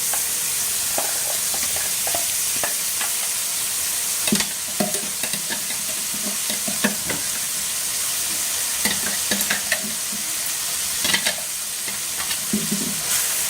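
Ridge gourd chutney stirred into a hot, sizzling tempering in a pan: a steady frying hiss with repeated scraping and stirring clacks at an irregular rhythm, close and clear, with no talking.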